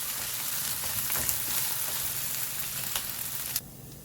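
Green chilies and fresh curry leaves frying in hot oil in a pan while making sabudana khichdi, a steady close sizzle with light crackles that cuts off abruptly near the end.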